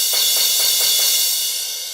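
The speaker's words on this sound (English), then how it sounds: "So the crash, it's lowered in key, because normally it sounds like this." A drum machine crash cymbal sample plays at normal pitch, a bright hissing wash with faint rapid flutter, heard alone and fading slightly over two seconds.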